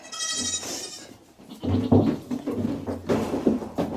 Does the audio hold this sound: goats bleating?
yes